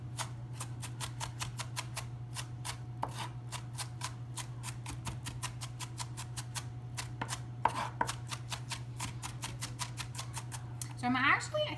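A knife chops a small onion on a board for fresh tomato salsa, striking in a steady, fast run of sharp close taps that barely pauses, with a low steady hum underneath and a brief clatter at the end.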